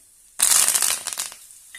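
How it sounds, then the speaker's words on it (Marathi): Curry leaves hit hot tempering oil with a sudden loud hissing burst that crackles for about a second, then fades to near quiet, close up and without voices. "थोडंसं कढीपत्ता घालूया"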